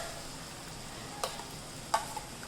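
Cabbage, carrot and capsicum fry softly in a pan with onion-tomato gravy, giving a low, even sizzle. Two faint clicks of a utensil sound partway through.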